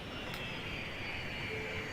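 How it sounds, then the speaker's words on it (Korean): A large four-engine double-decker airliner in the city-building game Cities: Skylines, heard as a steady, faint jet engine roar that holds evenly throughout with no talking. "비행기가 큰 것들도 막 들어오네요 2층짜리 비행기예요"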